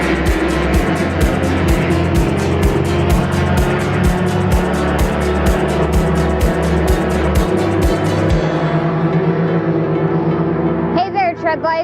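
Go-karts racing at Laguna Seca raceway, loud high-revving engines with rapid pulsing buzz, continuous and near, then cutting off near the end, with a voice talking over them.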